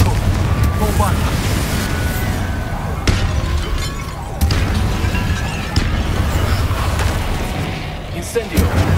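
Confringo spell explosions burst in combat in the Hogwarts Legacy video game, a dense run of booming, crackling blasts and shattering impacts over a steady rumbling battle din, with sharp hits around three, four and a half and six seconds.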